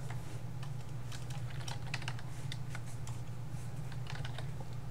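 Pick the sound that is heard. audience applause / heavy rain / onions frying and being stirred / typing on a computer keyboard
typing on a computer keyboard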